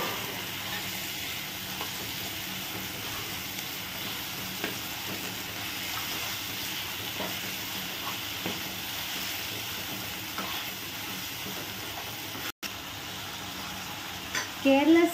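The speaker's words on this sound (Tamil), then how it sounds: "இப்போ வந்து நான் தக்காளி சேர்த்திக்கிறேன் தக்காளியும் வந்து நல்லா வதங்கட்டும்" Chopped tomatoes sautéing in a clay pot for a Kerala-style fish curry, a steady soft sizzle and frying hiss throughout with faint stirring knocks and a brief clatter near the end.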